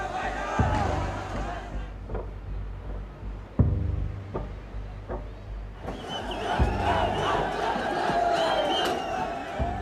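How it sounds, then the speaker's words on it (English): A protesting crowd storms Nepal's Supreme Court, a loud surging roar of shouting voices with sharp bangs and impacts, under a narrator's speech. "Crowds breach the Supreme Court"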